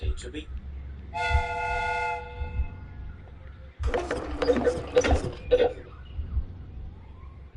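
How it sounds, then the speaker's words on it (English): A steam whistle on a replica train sounds a steady, multi-tone chord for about two seconds. Mechanical clatter and hissing follow nearby, with a low rumble running throughout. "the steam whistle is ready to be"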